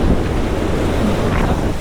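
Strong, steady hurricane wind roars across a sailboat riding at anchor off the Baja Peninsula, a dense, close rushing blast that buffets the microphone with slight surges and no pause throughout.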